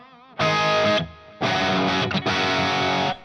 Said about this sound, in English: hear the reverb a little, you can hear the delay.